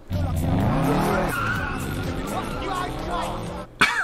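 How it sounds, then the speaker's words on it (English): A car doing donuts in a film scene, its tires squealing and skidding continuously under a revving engine, loud and close, with voices talking over it and the noise cutting off sharply near the end. "Not just drive away with it. You gotta do donuts first."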